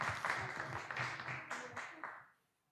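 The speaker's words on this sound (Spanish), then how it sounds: "Un aplauso para todos ustedes." A church study group audience gives a short burst of applause, dense clapping that fades out over about two seconds, with voices mixed in.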